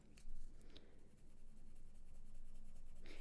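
Colouring pencil shading on paper with the pressure eased near the top, a soft continuous scratchy rasp that runs steadily at close range, alone without talk.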